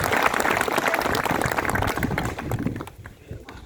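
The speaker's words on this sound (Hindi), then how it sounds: "आप सभी लोग ताली बजा के उनका जो है स्वागत करेंगे।" Audience clapping steadily to welcome a guest at a Hindi-language public event, dense and sustained for about three seconds before fading away.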